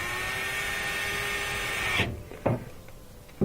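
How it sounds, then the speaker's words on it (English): A power screwdriver drives screws back into a Duet dryer panel, a steady whirring drone for two seconds that stops abruptly, followed by a few sharp clicks and knocks of parts being handled. "Screwing these back in now."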